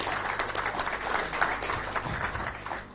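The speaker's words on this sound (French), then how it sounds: "sous vos applaudissements, s'il vous plaît" An audience applauds as guests, including a transport and logistics minister, join the panel at a forum, with steady, fairly close clapping from many hands holding a continuous dense texture.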